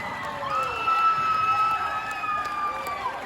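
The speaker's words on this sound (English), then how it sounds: "The crowd went nuts." A crowd at a basketball game erupts after a buzzer beater, loud continuous cheering and whooping with shouting voices filling the space for several seconds.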